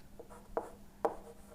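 Marker or chalk strokes writing an equation on a board during an engineering lecture, two distinct scratchy strokes with faint tapping in a quiet room, no talking.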